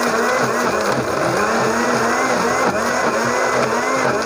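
A kitchen blender whirs steadily as it mixes milk and sugar for an ice cream milkshake, with a loud, continuous motor drone and a slightly wobbling pitch throughout.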